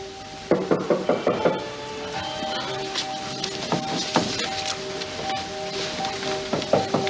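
Knocking at a door in a television drama scene, a quick series of about seven sharp raps, then several more scattered knocks against a steady room-tone background.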